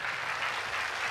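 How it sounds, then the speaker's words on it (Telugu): Audience on a Telugu TV game show hosted by Anchor Pradeep claps loudly, a dense, even burst of applause filling the short moment. "పాపం కొంటున్నాయి గట్టిగా చప్పట్లు."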